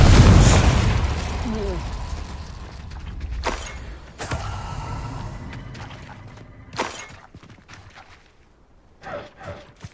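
Spell blasts in the Hogwarts Legacy video game, with a loud burst and crackling boom at the start, then several sharp shattering explosions and pops through the rest, mixed with game effects.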